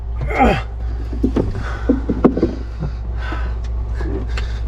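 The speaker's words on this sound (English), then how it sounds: "Excuse my grunting noise, people." A man's strained grunts and breathy gasps of effort come in short bursts while he works in a cramped spot on a sailboat, over a steady low engine-like hum, close and moderately loud.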